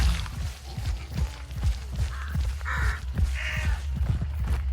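Crows caw in the game Hunt: Showdown, several harsh calls rising over a low rumbling outdoor ambience with faint thuds, moderately close and repeating irregularly with no voices.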